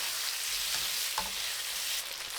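Tofu stir-fries in a hot wok with seasoning sauce and sesame oil, a steady close sizzle with a few soft scraping stirs of the spatula.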